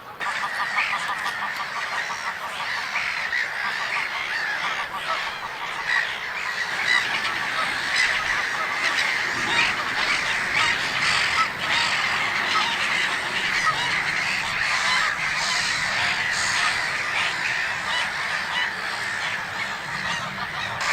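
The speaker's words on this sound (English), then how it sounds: "The birds are just going crazy, so it's quite noisy" A large, noisy flock of birds in the Netherlands, with geese honking constantly and loudly among other calling birds, a dense unbroken din heard up close.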